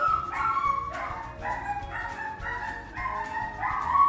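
Several dogs barking repeatedly in a quick, irregular series of yaps and barks, moderately near, with no one speaking.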